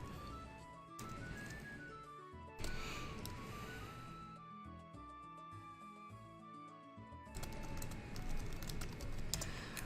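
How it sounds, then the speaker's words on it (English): Fast typing on a computer keyboard in bursts of dense clicking, quiet and close, with music playing underneath. "I was just typing on Twitter"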